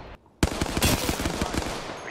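Video game gunfire opens abruptly after a brief near-silent pause, a loud close burst of rapid automatic shots rattling for over a second and a half.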